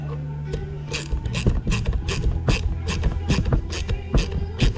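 A nut being tightened onto the mono ball joint of an aftermarket high-clearance A-arm on a CFMoto ZForce 950 side-by-side, heard as steady rapid ratcheting clicks with metallic turning, close and continuous, with no talking.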